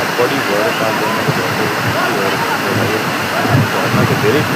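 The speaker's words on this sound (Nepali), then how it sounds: "झरना चाहिँ धेरै ठुलो छ।" A large waterfall on the Mailung river roars loud and close, a dense continuous rush of falling water with a voice talking over it.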